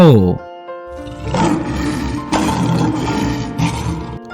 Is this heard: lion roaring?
yes